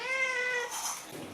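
A pet cat gives a single close, drawn-out meow that rises and then trails off into a brief breathy tail.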